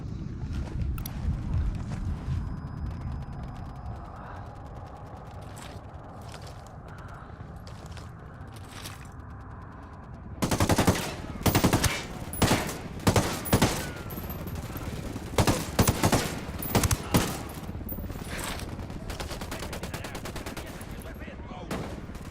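Gunfire exchanged against an enemy sniper in Ghost Recon Wildlands, a rumbling first half with scattered shots, then a burst of loud, sharp cracks repeating unevenly through the second half, with brief voices mixed in.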